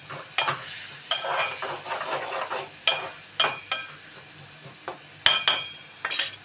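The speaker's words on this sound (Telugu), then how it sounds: "ఉల్లిపాయలు అయితే వేగుతున్నాయండి ఉల్లిపాయలు చూడండి" Onions frying in a pan for an egg and small fish curry sizzle steadily while a spoon stirs them in repeated scraping strokes, with occasional light clinks against the pan and no talk.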